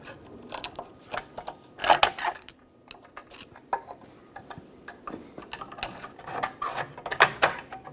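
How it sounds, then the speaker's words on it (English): A screwdriver pries the inner spring off a parking brake shoe on a 2007-2014 Chevrolet Silverado 2500 HD, making a series of close, sharp metallic clicks and scrapes in irregular bursts, with no talking. "I'm going to take a screwdriver now and pop off the inner spring"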